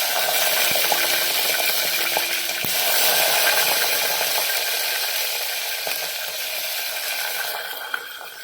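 Vadagam fries in hot oil in a pan with mustard and fenugreek seeds for a village-style fish kulambu, making a dense, steady sizzle with faint scattered clicks and no voices over it.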